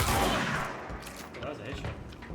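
Shotgun blasts from a video game fired through fences, a heavy booming report that opens loud and rolls into a dense, rumbling tail, with more muffled shots and game noise behind.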